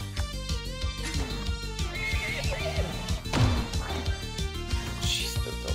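A horse mech neighs in the video game Sea of Stars. A drawn-out whinny rises and falls over loud game music, with a crash or impact near the middle.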